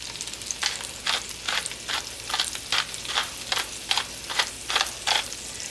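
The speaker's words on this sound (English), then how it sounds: "And I am just going to saute this for about 3 minutes." Vegetables seasoned with salt and pepper sautéing in a hot pan, a steady sizzle broken by a dozen or so bright scraping stirs at a regular pace, close up and without talk.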